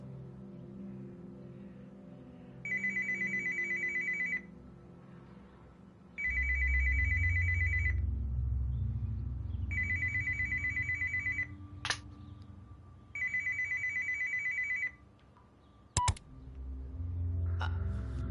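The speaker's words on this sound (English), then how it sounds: "Why am I getting a phone call?" Phone ringing in the video game Another Fisherman's Tale, four evenly spaced electronic ring bursts over a low rumbling ambience, with a few sharp clicks and a brief drop to near silence late on.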